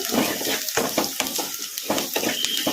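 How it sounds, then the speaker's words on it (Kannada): Onions with salt fry in a pan with a busy, continuous sizzle, broken by repeated rhythmic spatula strokes and scrapes close by. "ಉಳ್ಳಾಗಡ್ಡಿ ಬೇಗ ಫ್ರೈ ಆಗ್ತವು"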